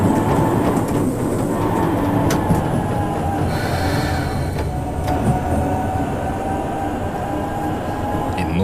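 Simulated train running in the PS2 game Train Simulator on the Keisei, Toei and Keikyu lines: a steady, loud rumble of wheels and motor with faint rail clatter, continuous throughout and without talk.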